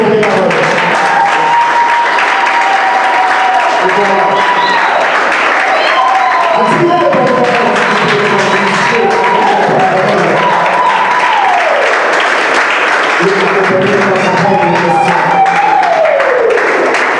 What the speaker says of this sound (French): Applaudissons pour mon porte-parole.